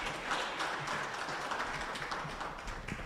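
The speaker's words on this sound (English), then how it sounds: "Another hand of applause," Attendees at a university peer growth network event give a short round of applause, a steady spread of hand claps that holds at an even level for a few seconds.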